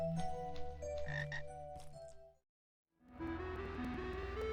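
Frogs croak in the video game Frog Guide, where an army of frogs fights slimes: a dense cluster of tonal game croaks, then a brief silence, then another burst of layered croaking, loud with no talk.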